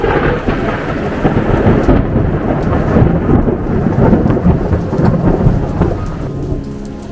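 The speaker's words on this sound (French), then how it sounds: "Si tu écoutes bien, peut-être que tu entends l'orage." A thunderstorm with steady heavy rain pours throughout, broadband and loud, while low rumbles of thunder roll beneath it; no voices are heard.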